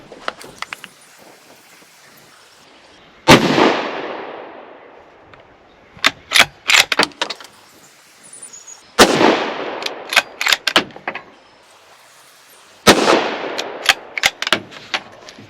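Rifle fired at an outdoor range through a 3-9x40 scope, with four sharp, loud shots spaced several seconds apart, each trailing a decaying echo, plus scattered clicks and handling noises in between.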